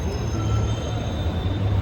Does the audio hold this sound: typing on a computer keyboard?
no